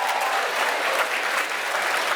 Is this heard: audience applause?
yes